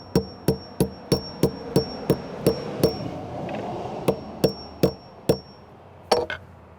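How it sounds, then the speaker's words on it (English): Steady hammer blows strike a wooden block while setting metal handrails into concrete stairs, about a dozen sharp knocks at an even pace with a short pause partway through. "just hammer it until it's even with the top of this"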